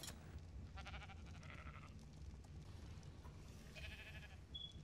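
Sheep in the video game Ark Survival Evolved give a few short, quiet bleats, scattered over a few seconds with no talking.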